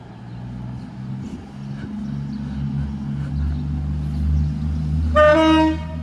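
Class 221 train 221119 rumbles low while departing Stafford station, its steady engine drone building until a short, bright horn blast sounds near the end.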